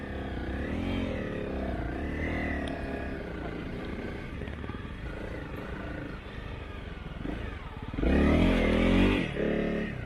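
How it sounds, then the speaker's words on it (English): A Honda CRF250 Rally motorcycle engine drones as the bike bogs in beach sand, then surges into a louder, straining rev near the end. Faint voices are heard. "both Dave and I managed to bog our bikes just a little bit"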